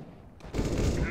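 Burst of gunfire from a CS:GO match, starting about halfway in and continuing loud and dense to the end after a quieter opening.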